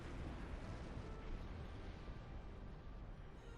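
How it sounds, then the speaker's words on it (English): Big ships explode during a space battle in a fleet-combat video game, heard as a dense, continuous low rumble of blasts without distinct separate booms. "I gotta get out of here or the explosions are gonna take me out"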